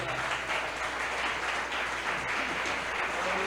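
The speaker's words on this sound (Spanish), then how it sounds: "Un aplauso para él" A church congregation gives sustained applause, a dense, even wash of many hands clapping at once, moderately faint and steady throughout with no break.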